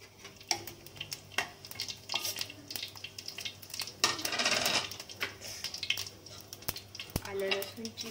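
Mustard seeds and cumin fry in a spoonful of oil in a kadhai, giving a faint sizzle with scattered sharp clicks and metallic taps and a brief louder burst near the middle.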